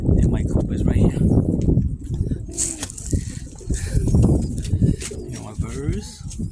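Pet pigeons coo repeatedly at a backyard coop, soft rolling calls mixed with faint chirps and a brief wing flutter, heard close under steady talking.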